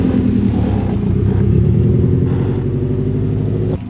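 A lowered Subaru WRX with a five-speed manual rolls along, its engine giving a loud, steady low rumble close by, with no talking.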